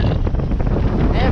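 Wind gusts outdoors on a farm during corn harvest, roaring steadily and loudly across the microphone for the whole brief moment.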